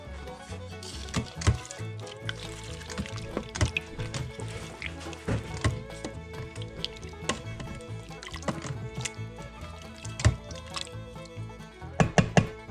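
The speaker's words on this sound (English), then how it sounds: "Then just stir it up real good." Beefy onion soup mix being stirred into beef for beef and noodles, with irregular wet squelches, clicks and spoon knocks against the pot, close and fairly quiet.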